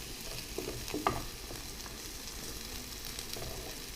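Onions frying in oil for Hyderabadi lamb biryani, a soft, even crackling sizzle at low level with a single brief clink near the start.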